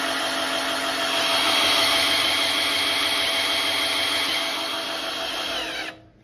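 A power drill turning a Mercruiser 5.7 oil pump whirs steadily under heavy load, its pitch holding with strain for several seconds before it cuts off abruptly.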